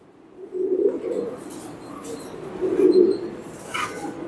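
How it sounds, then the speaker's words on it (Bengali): Tiny English short face pigeon chick giving soft low coos in two swelling bursts, close by, with faint chirps and rustling around it. "আর এই দেখো সবচেয়ে ছোট জাতের একটা কবুতর তোমার দেখাই, শর্ট ফেস।"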